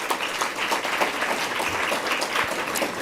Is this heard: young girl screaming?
no